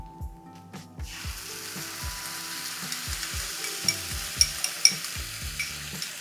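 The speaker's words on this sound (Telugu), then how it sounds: "సో ఇప్పుడు మనం టమాటో ప్యూరీ యాడ్ చేస్తున్నామండి." Tomato puree hits a hot pan for Nargisi kofta curry, then sizzles and fries steadily while a spoon stirs it, with repeated scraping knocks and small sharp spatters throughout.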